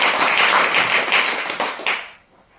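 A crowd applauding loudly at a Telugu church gathering, dense steady clapping that fills the room, then tapers off and fades to quiet after about two seconds.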